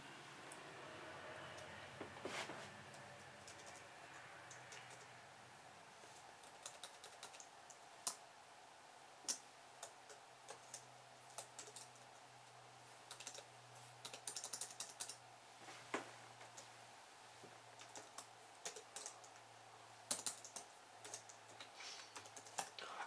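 Typing on an ASUS G74S laptop's backlit keyboard: a quiet, irregular run of close key clicks and taps, some bursts faster than others, over a low steady hum with no talk.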